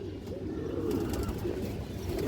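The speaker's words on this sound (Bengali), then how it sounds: "একবারে ন্যাচারাল লাল গিয়ারের কবুতর" A pair of natural red pigeons, a male and a female, coo close by. A low, continuous rolling murmur runs through the whole stretch with no voices.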